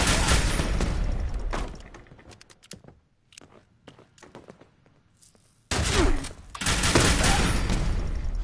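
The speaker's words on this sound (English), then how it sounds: "Just trying to shoot me with a shotgun." Shotgun fire from Fallout 76 comes as loud, rapid bursts of overlapping shots, then a quieter gap with scattered thumps and cracks, before another heavy volley resumes close and loud.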